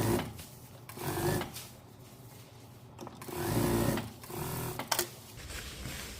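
Sewing machine running in bursts while stitching a shirt seam with a 0.5 stitch, one presser-foot width, several starts and stops of a steady mechanical whir, close and clear with no talk.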